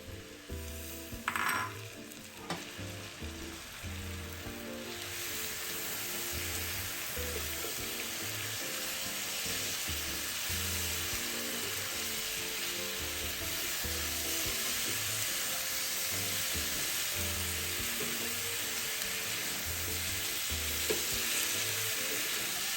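Braise ingredients, including boiled eggs and tofu, sizzle and fry in a wok while being stirred, with steady broadband hiss and occasional scraping clinks of the spatula against the pan.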